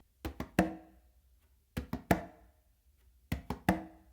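Three short groups of sharp conga hits, each a quick pair of muted bass-finger taps on the quinto followed by a ringing close slap on the tumba, played close and clear with pauses between.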